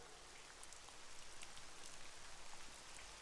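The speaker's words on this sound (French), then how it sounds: "La pluie ne s'est pas arrêtée." Steady rain falls in an anime scene, a soft, even hiss of drops on surfaces, faint and continuous with no voices.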